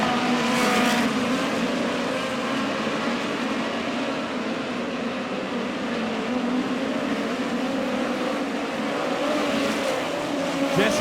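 Midget race cars in a POWRi National Midget League event at Lake Ozark Speedway, a dense continuous engine roar from several cars racing together, loud and steady throughout with little break.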